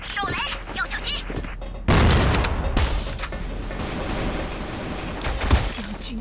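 A grenade explodes in the mobile shooter game CF mobile with a sudden loud blast partway through. Gunfire, rumbling effects and in-game voices follow.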